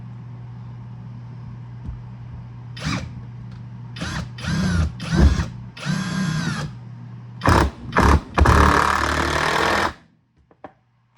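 A GoYwato cordless impact driver running a screw through a board into a countertop and backing it out, with several short hammering bursts, a whirring pause, then a long final burst before stopping.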